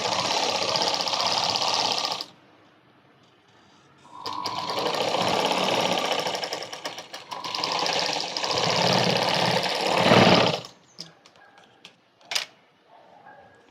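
A sewing machine stitches lining and cloth layers of a baby frock, rapid close mechanical chattering in three bursts of a few seconds each with brief pauses between, then quieter handling clicks and taps.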